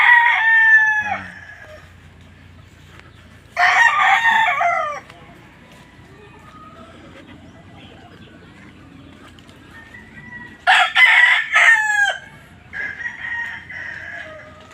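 Chickens in a breeding pen where hens are laying: a rooster crows loudly twice, near and full, with quieter clucking and other fowl calls between, over low steady farm background noise.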